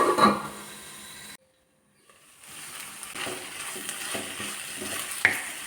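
Tomatoes with onion sautéing in a pan for chana masala produce a soft sizzle, broken by a short silent gap, then a gentle crackling return with a light utensil tap near the end.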